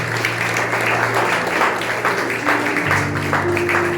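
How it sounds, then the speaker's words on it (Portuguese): A church congregation applauds during a Holy Communion service, broad continuous clapping with steady sustained tones beneath, likely organ or keyboard, and some voices mixed in. "Dê um aplauso para esse Deus poderoso, maravilhoso."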